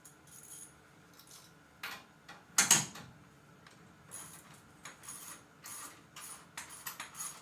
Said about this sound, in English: Drop this jack.